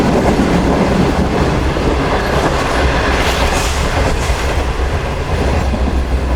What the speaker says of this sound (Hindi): तो 2:25 पर ट्रेन हमारी अप्रोच बना रही है लांडी जंक्शन रेलवे स्टेशन पर।